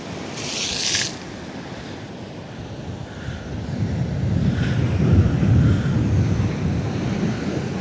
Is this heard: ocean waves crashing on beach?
yes